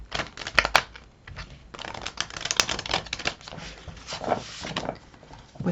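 Rapid papery riffling and soft clicking of tarot cards being shuffled by hand, close up, in bursts with no voices.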